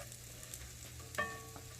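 Butter melting and sizzling in a pan with grease, a soft, steady frothy hiss with one brief clink partway through, no talking.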